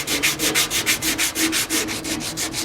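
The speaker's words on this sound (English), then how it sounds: "So here I am doing the lovely sand work" Hand sanding of Pontiac Trans Am parts, a loud, close, rhythmic scraping with quick regular back-and-forth strokes of about five or six per second, heard on its own with no talking.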